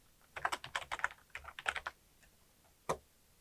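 Someone types on a computer keyboard, a quick run of soft key clicks followed by a short pause and one final isolated press, close and fairly quiet.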